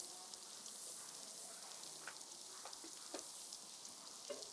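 Onions frying in oil inside a sufuria, a faint, steady hiss of sizzling with a few soft pops and crackles, heard alone with no voices.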